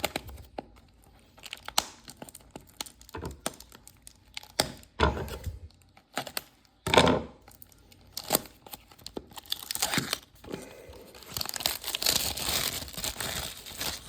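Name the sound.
tearing open a Topps football card hobby box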